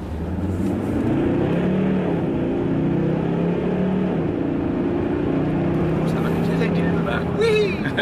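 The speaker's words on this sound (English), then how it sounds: "It sounds like a little jet motor in the back." A Volvo V60 plug-in hybrid accelerating hard, its engine giving a steady, loud, strained drone with rising tonal whine that holds for the whole stretch, a brief lift near the end.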